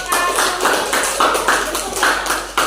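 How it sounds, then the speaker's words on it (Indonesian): A classroom of students claps for a group in bursts of rhythmic, fairly close hand claps, several beats per second with slight pulsing in loudness. "kasih tepuk tangan untuk kelompok"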